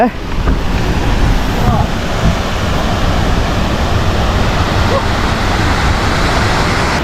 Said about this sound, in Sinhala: අර විදියට අතනින් ඇල්ල කඩාගෙන හැල්ල පල්ලෙහාට ගලාගෙන යනවා